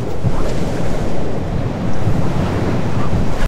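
AI-generated wind gusts over steady roaring noise with a surf-like wash, loud and continuous throughout.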